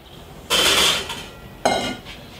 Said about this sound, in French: Donc on va renverser ça dans la marmite.